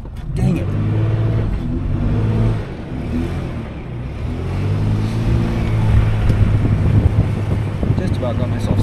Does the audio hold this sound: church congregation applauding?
no